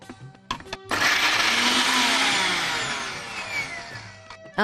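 A blender whirs loudly as it crushes a chutney of herbs with salt, cumin and lemon juice, starting after a few light knocks and running steadily for about three and a half seconds before cutting off.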